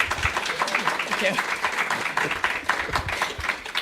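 An audience applauds a club's president and founder during a talk about Hope to Walk's mission to Ukraine, steady clapping filling the space while a voice speaks over it.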